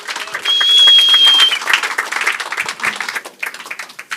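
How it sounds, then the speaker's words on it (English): A live audience at a Pechakucha Night event in Bermuda breaks into a loud round of applause, with dense clapping that swells early and then thins into scattered claps and a whoop or two. "give it a big round of applause for our last presenters of the day"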